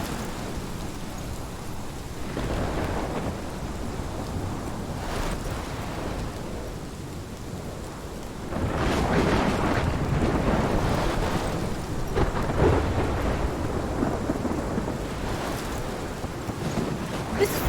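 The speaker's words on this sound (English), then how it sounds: "This is my storm." A thunderstorm in the video game Life is Strange: steady, dense rain with low rolling thunder that swells noticeably louder about halfway through and stays heavy, with no voices.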